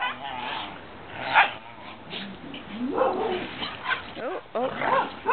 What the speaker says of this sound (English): There's a vocal dog.